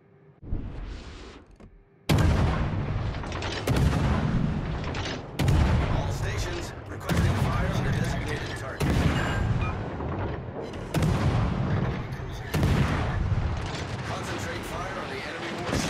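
Heavy naval guns in a video game fire on an enemy warship: a loud series of deep booming salvos, about seven blasts spaced a second or two apart, each ringing out before the next.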